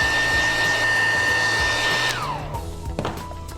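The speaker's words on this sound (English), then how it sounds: "You can then dry that with the hairdryer" A hairdryer blows steadily and loudly up close while drying a repaired leather jacket. It then clicks off and its whine winds down, leaving a few faint knocks and handling sounds.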